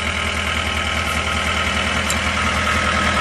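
A John Deere 320D skid steer with a 2.4 liter Powertech diesel engine idles steadily close by, a continuous low rumble with even pulsing and no talk.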